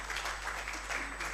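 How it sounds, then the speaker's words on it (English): Brief, light applause from a seminar audience greeting a recognized official, a soft patter of clapping lasting about a second over steady room hum. "Oh, so people get that kind of applause."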